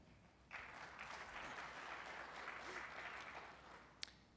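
An audience at a lightning-talk session at a programming conference breaks into applause after a speaker's introduction, a broad steady clapping that starts abruptly and holds, fairly distant and soft, with one sharper clap near the end.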